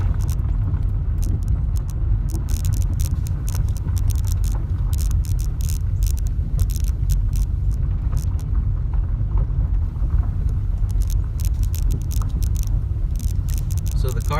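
Volkswagen Jetta rolling slowly over a short gravel driveway, a steady low engine and tire rumble with crunching, scraping texture throughout, close and continuous.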